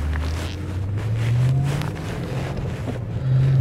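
A 2000 BMW E39 540i Sport with the M62tu V8 and a manual gearbox burbles through its exhaust while driving, a steady low drone that swells slightly near the end, with wind noise over it and no talking.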